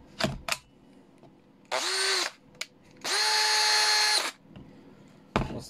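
A Makita cordless power tool running on a counterfeit 9Ah battery whirs in two steady bursts, a short spin and then a longer one, each followed by a click and then quiet.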